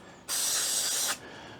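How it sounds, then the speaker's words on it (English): A can of brake cleaner sprays in one continuous burst lasting just under a second, a sharp, loud hiss that starts and stops abruptly against a quiet background. "let's get our brake cleaner here. We'll spray all that down."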